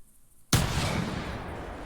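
One loud rifle report cracks out at a whitetail buck in the hunting game theHunter, a sudden sharp blast that rolls into a long, broad rumbling echo with no talking.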